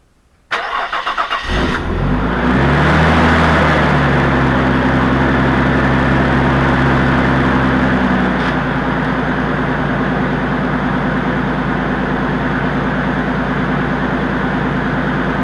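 An RB25DET car engine, just fitted with new coil packs, cranks briefly on the starter, then catches and settles into a loud, steady idle that runs on without pause.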